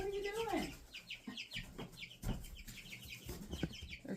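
Chickens cluck at close range during morning farm chores, a busy run of short overlapping clucks and squawks from several birds, starting with one longer rising call.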